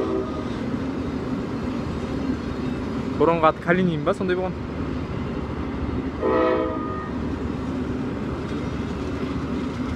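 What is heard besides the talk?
passenger train departing with horn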